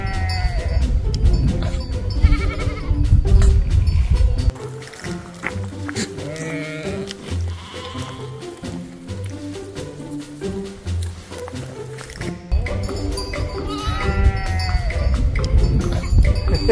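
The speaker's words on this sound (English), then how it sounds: "look at all these goats" Goats bleating repeatedly around a village in the Alamut valley, Iran, with cowbell-like clanks and a lively, layered herd sound that dips briefly in the middle before swelling again.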